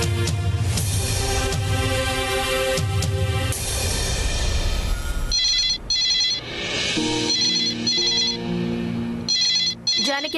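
Telephone ringing in a home, a steady electronic ringtone repeating loudly over background music, with no voices.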